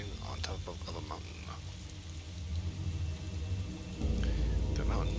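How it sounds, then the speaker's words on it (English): Heavy rain pours steadily in the game Fatal Frame: Maiden of Black Water, a dense hiss with faint low rumbles, swelling louder toward the end. "it is raining like a son of a bitch"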